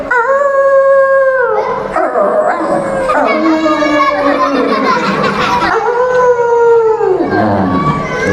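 Young voices imitate a wolf, drawing out several rising and falling howls in a loud, close chorus.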